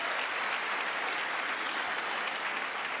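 Steady applause from an audience in a legislative chamber during a State of the Union address, a dense, even wash of clapping that holds at a constant level for the whole stretch without breaks.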